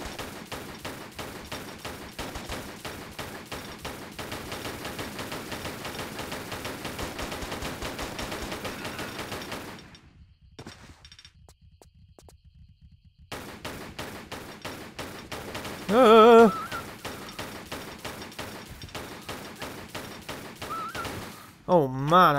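Enemy gunfire in Tomb Raider III, a long stretch of rapid, steady shots that breaks off briefly before firing resumes with sharper bursts near the end.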